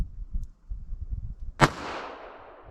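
A single sharp .22 Magnum handgun shot fired over a chronograph cracks out loud and close, followed by a short decaying echo, after a stretch of low rumbling background.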